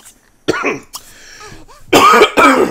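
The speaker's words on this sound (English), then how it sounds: "I don't know why I'm coughing." A person coughs several times, close and loud, with short harsh bursts separated by brief pauses, ending in two strong coughs.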